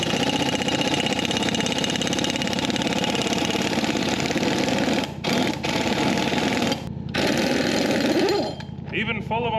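A Snap-on tire machine with ice inside it runs on compressed air in an off-grid setup, a loud steady mechanical clatter that fills the clip, with a couple of brief dips and a change in pitch near the end.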